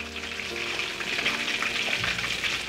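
Battered pork pieces sizzle and crackle steadily in hot oil, a close, continuous frying hiss with no voices.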